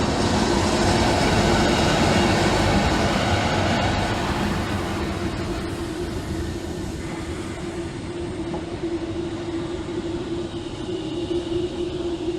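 A Greater Anglia train pulls into Stowmarket station, loud rail rumble and wheel clatter that slowly eases as it arrives, with a steady hum underneath and no talking.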